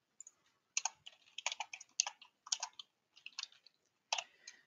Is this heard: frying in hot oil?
no